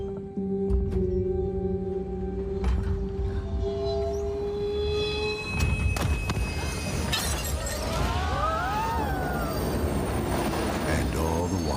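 A train running on rails, a loud continuous rumble of wheels with screeching metallic squeals and tonal whines rising and falling, close and sustained throughout.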